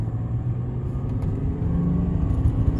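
Steady low rumble and drone from inside a moving 1993 Mercedes-Benz 300SD W140 turbodiesel at low speed, with a faint drive shaft vibration and possible center bearing wear felt as it comes up to about 20; no talking.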